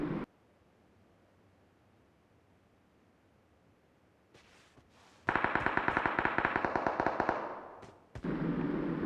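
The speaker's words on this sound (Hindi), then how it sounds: "सामने फायरिंग की आवाज़ आ रही होती है" Gunfire in a video game: a short crack and a few scattered shots, then a loud sustained burst of rapid automatic fire, then a noisy hiss, with no talk.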